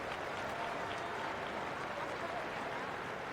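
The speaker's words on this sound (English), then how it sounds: "Ripple of applause for India's 150." A ripple of applause from the crowd at an England v India women's one-day international cricket match, steady and broad, filling the clip under faint crowd noise with a hint of commentary voices.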